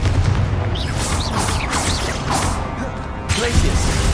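Spell blasts and impacts from combat in the Hogwarts Legacy video game on hard difficulty, including a fiery Confringo spell: a dense run of booms and crashes with rising whooshes, loud and close, over a continuous rumbling bed.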